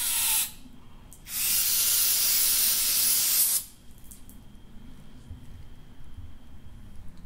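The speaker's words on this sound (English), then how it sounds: "make sure you clean this well with brake clean" Aerosol brake cleaner sprayed on a Volvo 850 Turbo intake part, two loud hissing bursts, one short and one about two seconds long, then quieter handling sounds.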